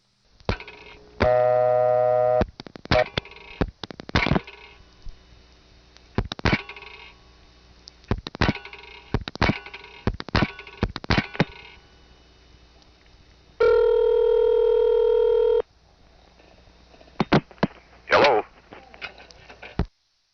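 A telephone call rings through an Allentown ESS switch in 1976, recorded over a phone line: two long, buzzing ring tones separated by a dense run of switching clicks and clatter, narrow and lo-fi.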